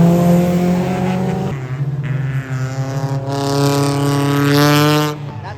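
A loud drift car at Fuji Speedway on a foggy day with a quad-pipe exhaust, revving hard close by as the engine note climbs and falls, then cuts away at the end.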